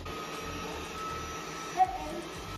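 A robot vacuum cleaner runs in a home with a steady, moderate whir and hum, one brief louder bump partway through, and no talking.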